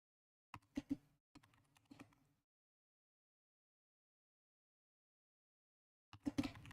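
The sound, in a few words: typing on a computer keyboard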